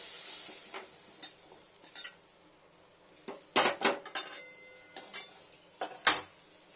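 A burnt kadai wok is handled with a metal spatula, producing sharp clanks and scrapes in irregular bursts over faint sizzling, loudest toward the end.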